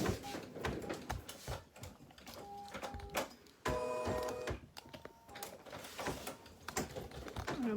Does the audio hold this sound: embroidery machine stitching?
yes